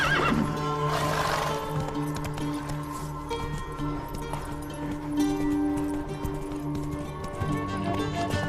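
A horse gallops in The Witcher 3 video game with rapid clip-clop hoofbeats and a whinny near the start, set against a continuous musical and ambient game background.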